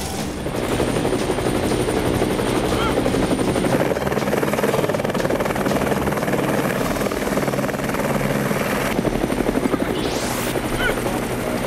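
A cartoon helicopter flies continuously overhead, its loud, steady rotor chop and engine drone filling the whole stretch with a dense, unbroken throb.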